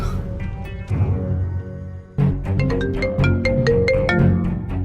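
A phone ringtone melody plays on and on, a bright repeating tune of stacked chiming notes with no one picking up.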